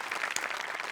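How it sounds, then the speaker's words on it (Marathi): Audience applause at a Marathi comedy show for Sachin Mote, a dense burst of clapping filling the short moment, with no voices over it. "सगळ्यात आधी सचिन मोठेसाठी टाळ्यांचा कडकडाट"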